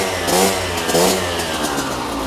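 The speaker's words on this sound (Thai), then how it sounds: "เครื่องฟิตสตาร์ทติดง่ายครับ" Restored Honda MTX125R two-stroke motorcycle engine running close by, a buzzy mid-pitched idle with a couple of short throttle blips, loud and steady with no talk.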